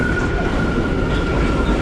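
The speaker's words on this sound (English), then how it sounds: "this is our train" A New York City train rumbles steadily along the tracks, a loud continuous roar with a faint high metallic whine running through it.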